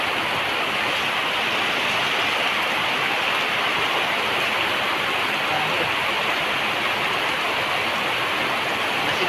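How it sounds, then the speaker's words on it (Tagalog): Heavy rain pours down steadily in Naic, Cavite, a dense, unbroken hiss that holds evenly loud throughout with no voices. "Lakas ng ulan."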